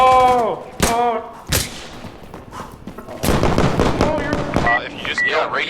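Sharp gunshots and bursts of fire crack through a firefight in Insurgency Sandstorm, some shots loud and close, others quicker and rattling, while voices shout over the combat.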